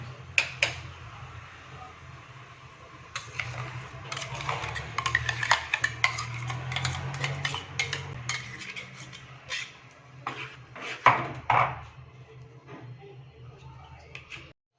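Thick tomato paste scraped from a mixer jar into a pan, with repeated metal clinks and taps of a spoon against jar and cookware, close and fairly loud, a voice talking faintly at moments.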